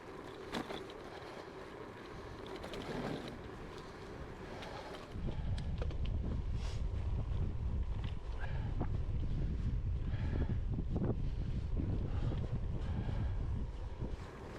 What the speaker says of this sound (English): Even though that wind's pretty brisk and cold, still a lovely morning.